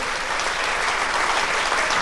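Steady applause from a crowd, a dense wash of clapping at moderate volume for a couple of seconds.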